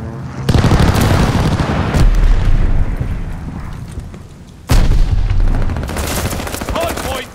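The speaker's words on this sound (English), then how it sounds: "Friendly sending an airstrike" Video game firefight during a hardpoint match: heavy sustained gunfire and booming explosions from an airstrike, loud and dense throughout, with a sharp fresh blast near the middle followed by continued rumbling fire.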